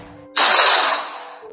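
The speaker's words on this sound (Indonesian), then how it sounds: "Suara tembakan merusak acara ikrar janji suci dalam gereja." A single gunshot sound effect in a church during a wedding vow ceremony: one sharp, loud blast that sustains as a harsh burst for about a second before fading, with nothing else around it.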